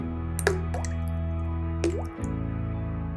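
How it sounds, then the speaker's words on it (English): Water drops fall with two distinct, quiet plinking drips about a second and a half apart, followed by a faint third, over a steady low hum. "a water drop is quiet but with a low frequency."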